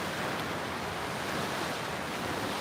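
Sea waves washing continuously, a broad steady surf roar with some wind noise on the microphone, no voices.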